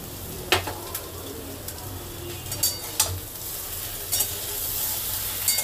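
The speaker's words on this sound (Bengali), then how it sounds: "এই সবজিগুলোকে একটু হালকা ভেজে ভেজে নিচ্ছি।" Mixed vegetables with ridge gourd fry in a pan for a fish-head shukto, a constant sizzle broken by repeated scraping strokes of a spatula at an uneven rhythm.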